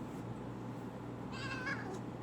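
A cat meows softly indoors, one short drawn-out meow in the second half over quiet room hum.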